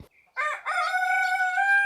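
A rooster crows once, a loud, drawn-out call close by after a brief quiet start, with no one talking.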